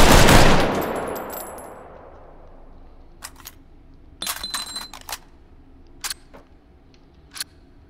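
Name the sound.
carbine gunfire in video game H3VR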